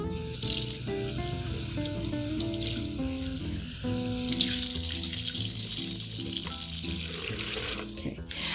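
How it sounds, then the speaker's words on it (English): Steady tap water runs as a wig with a silicone insert is rinsed under the faucet while its hair is combed, a continuous close splashing stream with a tonal hum beneath that swells louder midway. "as I'm rinsing under the faucet, I'm still combing the hair down and away from the front lace"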